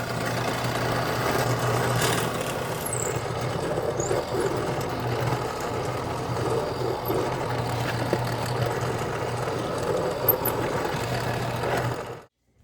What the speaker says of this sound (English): Over at the drill press, I'm going to first drill a counter bore